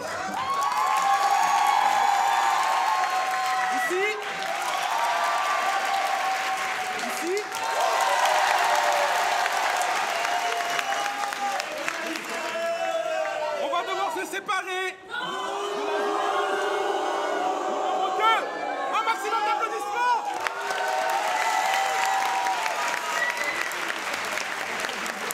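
A festival audience at a sung improv show applauds loudly to vote a player out, with sustained clapping, cheers and whoops in several waves across a large room, and a host's voice breaking in.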